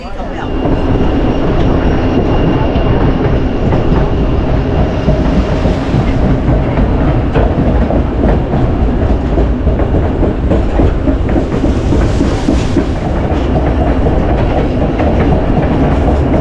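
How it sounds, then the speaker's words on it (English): A loud train on the White Pass railway in Skagway, Alaska rumbles past close by, a continuous heavy roar with rhythmic rattling of the cars that holds steady from start to finish. "Finally a train went by and then we started going."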